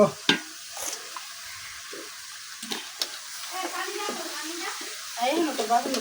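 Avocado and meat go into a pan with ginger and garlic paste and are stirred. Soft scraping and sizzling come in irregular bursts, fairly quiet, with someone talking over them.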